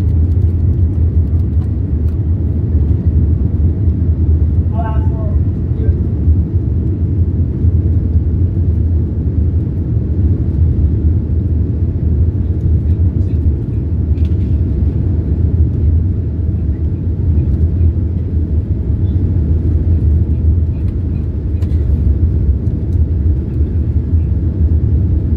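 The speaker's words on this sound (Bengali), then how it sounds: "সম্পূর্ণ স্পিড বেড়ে গেলে বিমানটা আকাশে উঠবে।" Inside the cabin of a Boeing 787-9 airliner speeding down the runway for takeoff, a loud, steady low engine roar and rumble fills the whole stretch without letup.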